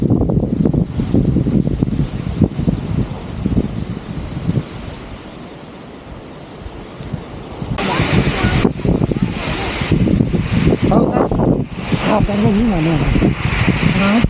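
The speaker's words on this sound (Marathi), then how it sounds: "हा बघा भरपूर वारा सुटलाय आता संध्याकाळचा तर पाण्याला हा बघा जोराचा वारा सुटलाय" Strong evening wind blows over a flooded rice paddy during transplanting season, a loud, steady roar with heavy buffeting on the microphone that surges again in gusts partway through.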